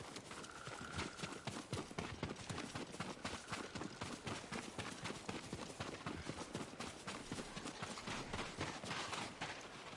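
Horse hooves clip-clop steadily and quickly in Ghost of Tsushima, a dense run of sharp hoofbeats lasting the whole stretch with no voices over them.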